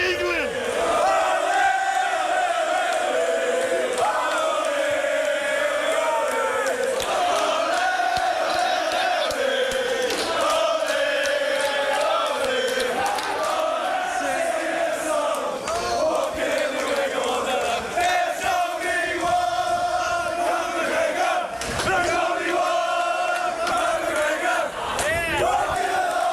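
A loud, dense crowd of Irish fans chants and roars nonstop at a fight event, voices massed together in a sustained, rhythmic din with swelling shouts throughout.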